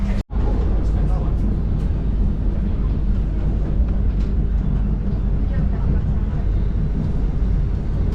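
An airport train running on rails in Ranah Minang, West Sumatra, a loud, continuous rumble and roar that stays steady for the whole stretch after a brief dropout at the start.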